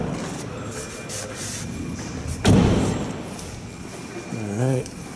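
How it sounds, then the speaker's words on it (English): Door of a 2013 GMC Sierra truck shutting with one solid, heavy slam midway, set against outdoor background noise, followed by a brief vocal sound. "Okay, I'm gonna shut these doors."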